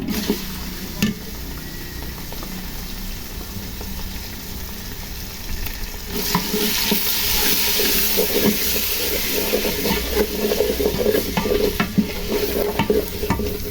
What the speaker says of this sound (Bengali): এখন দিয়ে দিলাম মাংস কষানোর জন্য পেঁয়াজ, রসুন, আদা বাটা। এগুলো সুন্দর করে ভেজে নেব।